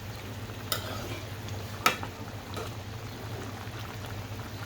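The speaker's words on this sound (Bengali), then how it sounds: "তরকারিতে বলক চলে আসছে।" A pot of sour green-tomato curry simmering on the stove, a low steady bubbling hiss with two sharp clinks or knocks, close and moderately loud with no voices.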